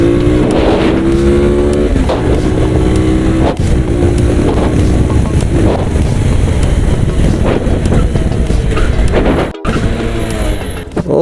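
A Lifan KPT 150 motorcycle fitted with a BMC air filter on the move, its engine note climbing and dropping through several rises under steady, loud wind rush, with no voices.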